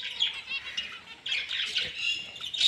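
Two birds squabble in sharp, harsh squawks and chirps, coming in several quick bursts with brief pauses, fairly near but not loud.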